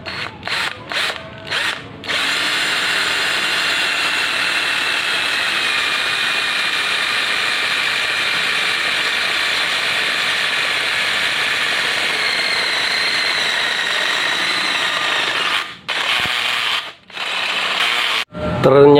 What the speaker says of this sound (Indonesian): Di sini saya coba untuk mengebor besi siku sekitar 2 mili.